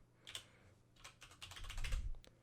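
A lighted computer keyboard with reactive key lighting, its keys pressed in a quick, uneven flurry of close, crisp clicks and clacks with a dull thump of keystrokes building toward the end.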